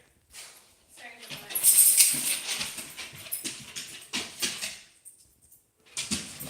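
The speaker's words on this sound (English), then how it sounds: "the dogs are kind of loud, but they're just playing" Dogs playing indoors, with bursts of scuffling, yips and whimpers that rise and fall in short waves, mixed with household thumps.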